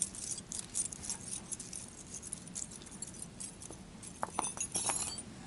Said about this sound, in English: Here we have a whole set of tinkling frets.